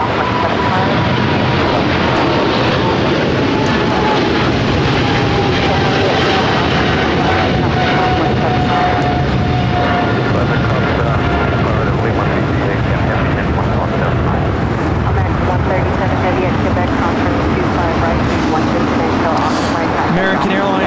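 Hong Kong jet airliner on its takeoff roll down runway 25 right at LAX, a loud steady engine roar with a slowly falling whine, continuous throughout with radio chatter mixed in.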